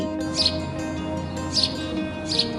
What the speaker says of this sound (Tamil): ஸ்பேரோ